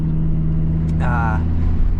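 An Audi R8 engine hums in a steady low drone while driving, heard from inside the car with someone talking over it.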